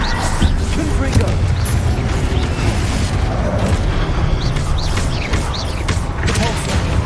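A Confringo fire blast spell explodes in the Hogwarts Legacy video game, heavy booms and crashing bursts amid busy combat effects, loud and close throughout.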